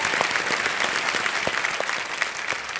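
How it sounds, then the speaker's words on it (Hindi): A studio audience on a TV quiz show claps steadily for nearly three seconds, a dense, even wash of applause with no voices heard. "तालियों के साथ इनका स्वागत।"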